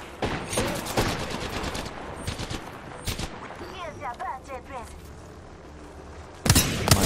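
Rapid bursts of automatic gunfire ring out in an Apex Legends match, several dense volleys up front and a loud burst at the end, with quieter mechanical shots in between and a player talking throughout.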